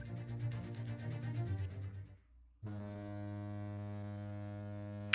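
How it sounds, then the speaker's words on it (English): A ship horn honks in The Great Ace Attorney Chronicles: a low rumbling tone fades out, then a loud, sustained deep horn blast begins abruptly and holds steady to the end. "if you didn't hear that sound effect, then yeah, there was an actual honk"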